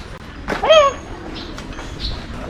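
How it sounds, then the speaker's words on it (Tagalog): A single bird gives a brief rising whistle, with other faint calls scattered over a soft outdoor background. "Ang daming ibon dito."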